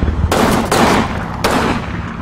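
Thompson submachine gun fire in the video game Combat Mission, two loud close bursts of rapid automatic shots separated by a short pause, with no talk over them.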